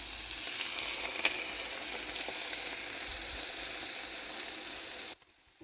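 Beaten eggs hiss and sizzle over shredded cabbage in a hot pan, a steady close crackle with a few sharp pops that cuts off abruptly near the end.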